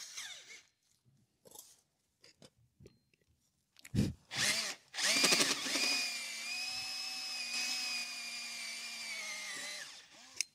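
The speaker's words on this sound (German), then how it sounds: "bohren hier jetzt ein 35 mm großes Loch rein. Das machen wir mit dem Kronenbohrer" A hole saw on a power drill bores a 35 mm hole through a plastic lid; after a few close handling clicks and knocks, the drill whines up and runs steadily for several seconds, loud and near, then stops.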